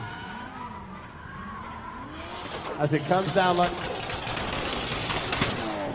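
A drift car at a Red Bull car park drifting event in Muscat skids through a continuous drift, its tyres squealing in a wavering, rising whine, loud and close, with an engine roar beneath and a commentator talking over it.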